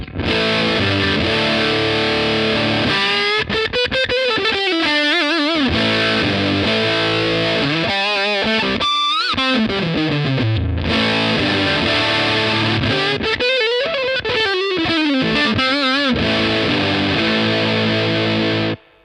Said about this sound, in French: On va regarder pour le plaisir quel type de son on peut avoir avec de la distorsion.